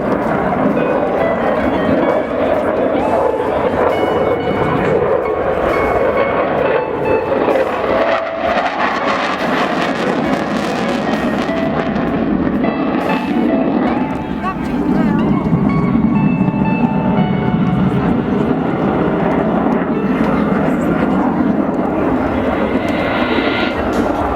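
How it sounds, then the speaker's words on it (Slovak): A Belgian F-16 Fighting Falcon jet roars steadily through an air show display at Slovakia Avia Show, a loud continuous engine rumble and hiss that shifts in tone as the aircraft passes, with a commentator speaking at points. "stručne F-16 Fighting Falcon v podaní belgického ukážkového pilota"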